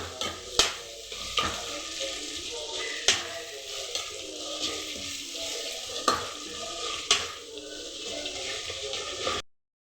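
Ginger garlic paste sizzles in a hot pan while being stirred, with a steady frying hiss under occasional sharp scrapes and taps of the spoon against the pan.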